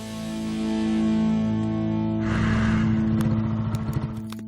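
A motorcycle pulls up outside a house door, its engine note steady and then fading into a sputtering idle as it comes to a stop, with nothing else heard.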